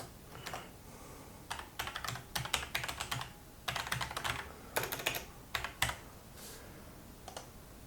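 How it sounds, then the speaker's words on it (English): Computer keyboard typing sign-in credentials, heard as irregular bursts of quick, light key clicks with short pauses between them, close but quiet over a faint background hiss, with no talking. "so I'll just type in my credentials here"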